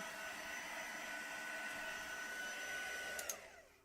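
Heat embossing tool blowing hot air over embossing powder on a handmade card, a steady close whirring fan roar that runs for several seconds and then winds down.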